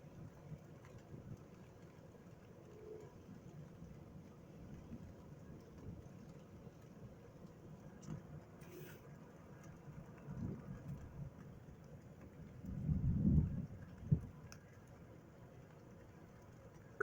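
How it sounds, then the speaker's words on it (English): At night under light rain, a soft, steady hiss runs throughout, and a single low rumble of distant thunder swells briefly near the end before fading. "I'm waiting for the thunder."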